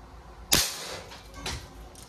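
A Crosman MagFire Ultra .177 break-barrel air rifle fires one sharp, loud crack with a quick ringing decay. A softer second snap comes about a second later, and there is no talking.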